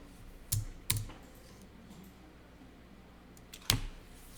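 A few isolated clicks from a computer keyboard, including a tab key press, sound close and quiet: two taps near the start and one later, separated by near silence.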